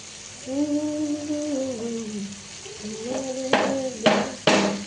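Carrot, capsicum and onion go into a hot pan with chicken, with a few loud sizzling bursts and clatters near the end after a stretch of wordless vocal sound.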